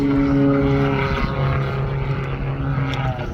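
Yak aerobatic propeller aircraft with a piston engine flying a loop at an air festival, a sustained droning engine tone that shifts in pitch as it climbs and turns, heard from a distance.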